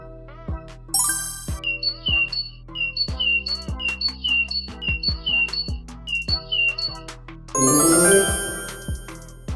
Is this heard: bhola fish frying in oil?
no